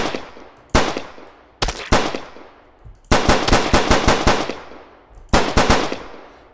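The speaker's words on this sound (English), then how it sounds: "it took me a couple of shots to kill him with the pistol" Pistol gunshots in a video game, loud sharp cracks in several bursts, first single shots and then rapid strings of five or six, each cut off abruptly with short decays.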